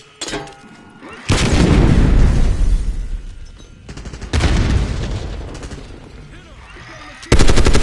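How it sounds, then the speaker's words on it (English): A grenade explosion and gunfire in Black Ops 6: heavy booming blasts with rolling low rumble, a clatter of shots in between and another sharp burst at the end, all loud and close. "Grenade out!"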